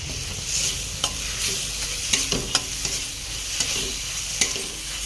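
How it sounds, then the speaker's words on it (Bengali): Spice masala with red chilli powder, cashew-raisin paste and a little water sizzles steadily in a pan for a cauliflower dish, with a spoon scraping and clinking against the pan every second or so, close and clear. "অল্প একটু জল দিয়ে ভালো করে মশলাটা কষাবো"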